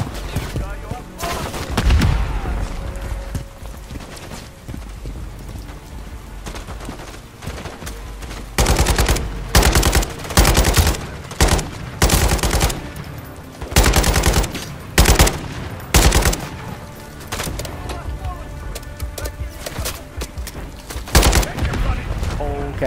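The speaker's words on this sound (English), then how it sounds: "I'm shooting right at him." Loud bursts of automatic gunfire and shots from the video game Modern Warfare 3 campaign, rattling in repeated clusters with booms between, while someone talks over the game audio.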